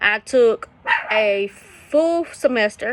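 A dog barks and yips in the background of a home while a person talks over it, the short barks breaking in between spoken phrases.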